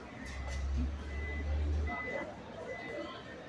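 Dump truck at a construction site in New York City's Belmont Park, its reversing beeper sounding steady tones at a distance over low engine rumble and outdoor noise, with a voice talking at times.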